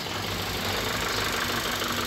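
Darjeeling toy train locomotive engine running in the Darjeeling loco shed, a steady droning rumble with a constant mechanical hum and faint high whine, unchanging and fairly loud for about two seconds.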